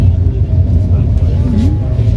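A car's engine and road noise rumble low and steady from inside the cabin on a drive toward Kathgodam and Nainital, with voices talking over the continuous drone.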